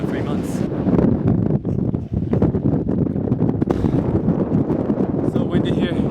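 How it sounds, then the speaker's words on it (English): Strong wind at Lake Assal in Djibouti buffets the microphone in a continuous loud roar with gusty bursts. A voice speaks underneath it. "And it's really windy and it's gonna suck."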